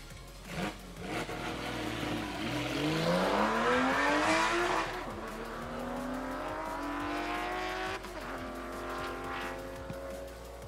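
A race car launches at a one-mile top-speed challenge, its engine rising through the gears in repeated climbing pulls with a brief tire squeal, loud at first and then receding into the distance.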